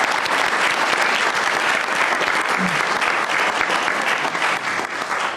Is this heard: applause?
yes